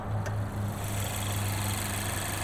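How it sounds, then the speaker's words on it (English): Idling 2-liter inline four-cylinder in a 2021 Mazda MX-5 Miata RF Grand Touring, a steady low hum with a faint higher whine, heard close under the open hood with no talk. "Look at this 2-liter inline 4-cylinder."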